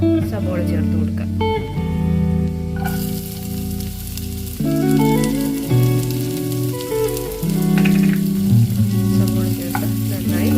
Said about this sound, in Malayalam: സബോള ചേർത്ത് നന്നായി വഴറ്റി കൊടുക്കുക.